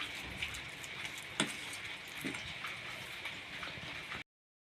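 Dal batter fritters fry in hot oil with a steady, soft sizzle and crackle, plus a couple of brief knocks, before cutting to silence.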